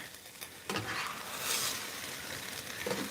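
Chinese long beans and tomato pieces being stir-fried and tossed in a hot pan, a steady close sizzle with scraping, clattering stirring bursts throughout, no voices.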